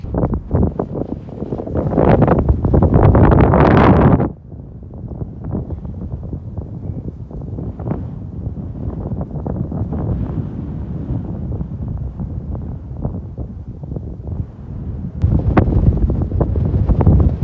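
Strong gusty storm inflow wind in the California desert buffets the microphone in heavy roaring bursts at the start and end, easing to a lower rumble in between.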